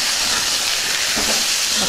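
Tomato pieces tossed into a hot pan with chicken and salt for a traditional Telugu chicken egg fry give off a loud, steady sizzling hiss that carries on evenly throughout.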